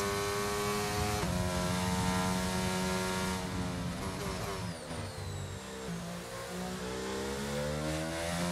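Mercedes Formula 1 car in the racing game F1 22, its engine revving high and steady, then rising and falling through gear changes, loud and continuous with no voices.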